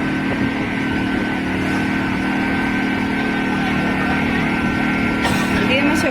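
A newly bought portable generator running steadily during a power outage, a continuous close mechanical drone with a boat-like engine tone, with people talking over it.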